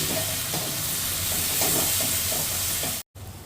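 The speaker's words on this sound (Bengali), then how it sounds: "আমি মশলাটাকে আরেকটু ভালো করে নেড়ে চেড়ে কষিয়ে নেব" Spice paste with Kashmiri chilli powder being stirred and fried in a pan over lowered flame, a steady close sizzle with soft scraping strokes of the spoon, continuous and fairly loud, cutting off briefly near the end.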